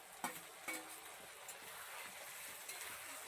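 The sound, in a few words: ground spice paste added to pan and stirred while cooking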